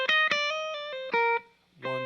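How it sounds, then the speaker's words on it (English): An electric guitar plays a fast eleven-note rock lick through an effects unit with distortion, with bright clipped notes in a quick burst, a short pause and then another attack, played alone and up close. "So the 11 notes sound like this."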